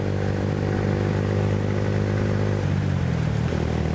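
A 2022 Honda Grom motorcycle riding on back roads, its small engine droning steadily and loudly throughout, with the pitch shifting slightly near the end as the rider changes speed.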